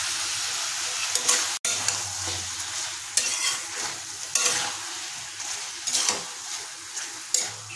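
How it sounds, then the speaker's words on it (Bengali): Salted chicken for a Kolkata-style chicken stew stirred in a pan with a spatula, with a constant low sizzle broken by repeated scrapes and metal clicks against the pan, no voices. "তাই এবার এটাকে খুন্তিতে ভালো করে আরও কিছুক্ষণ নাড়িয়ে নেব"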